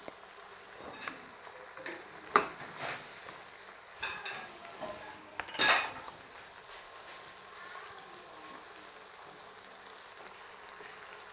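Potatoes and eggs fry in a pan with a steady low sizzle, broken by a few sharp scrapes and stirring knocks near the start, then settling into a quiet continuous crackle.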